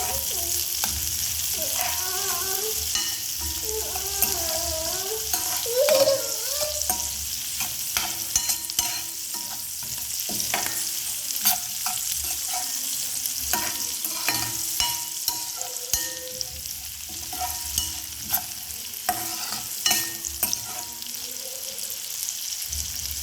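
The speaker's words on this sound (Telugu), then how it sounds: "వీటిని అయితే ఒకసారి కలుపుకుందాం." Carrot and bean pieces stir-fried in a hot pan for egg fried rice, a steady sizzle running throughout with repeated scraping stirs, close and loud, with no talking.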